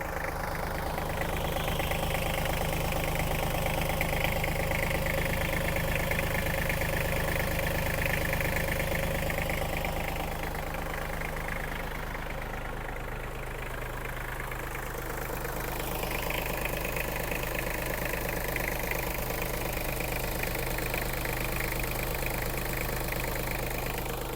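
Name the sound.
mini tractor engine idling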